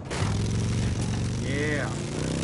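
A motorcycle engine in a video game drones steadily and loudly with a low harmonic hum, heard under excited voices of players talking over it.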